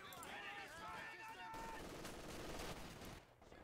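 Machine-gun fire from a Company of Heroes 2 match between US Forces and Wehrmacht infantry, a dense continuous barrage of gunshots mixed with other battle noise and possible faint voices, steady throughout and dropping off slightly at the end.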